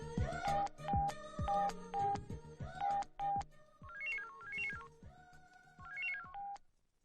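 A melodic electronic phone ringtone plays close by, repeating a bright tone pattern with quick chirping runs, then stops.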